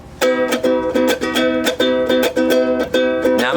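A ukulele plays a lively, bright chord strum in a quick repeating rhythm, loud and close, with no voice over it.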